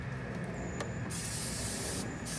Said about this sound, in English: I'm gonna spray it down with a little pan cooking spray.